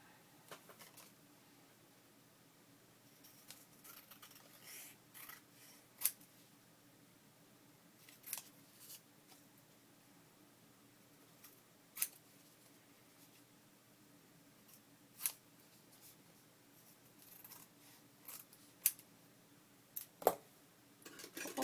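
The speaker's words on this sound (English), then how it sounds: "Let's see if we can cut up the other one" Scissors cut paper for a junk journal, giving faint, sparse, crisp snips scattered at irregular intervals over a quiet background.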